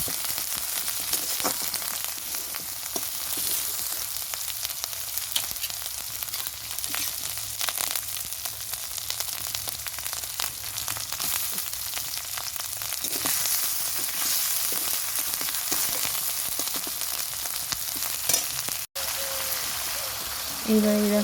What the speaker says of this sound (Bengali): তো ওগুলো দিয়ে ভালোভাবে আমি নাড়াচাড়া করছি